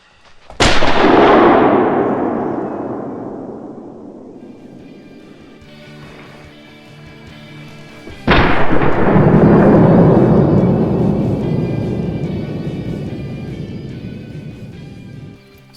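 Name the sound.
12 gauge shotgun shots in theHunter video game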